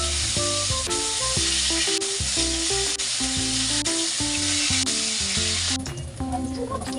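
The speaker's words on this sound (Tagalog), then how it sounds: "Hindi nakakatakot itong bangus pag piniprito" Milkfish (bangus) frying in hot oil, a loud, steady, dense sizzle that holds throughout with popping spatters, easing slightly near the end; quiet music or tones sit underneath.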